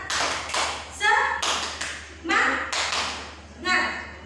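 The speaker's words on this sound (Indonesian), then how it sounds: "Ibu kasih contoh sedikit. Tepuk semangat." A teacher demonstrates the 'tepuk semangat' clapping chant in a classroom, with bursts of rhythmic hand claps and taps set between her spoken chant phrases.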